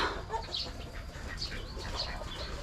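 Chickens, including black hens, cluck softly in a backyard coop, with scattered faint calls over a low background hum and no talking.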